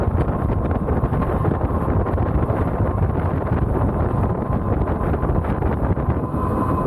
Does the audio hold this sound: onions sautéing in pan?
no